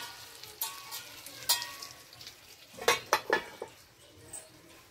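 Stuffed brinjals cooking in a covered pan, a soft low sizzle broken by metallic clinks and scrapes of a lid and utensil, with a cluster of sharper knocks midway.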